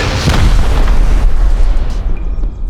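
A rocket explodes in the video game Rust with a loud, close boom, then a long, heavy rumble that slowly fades.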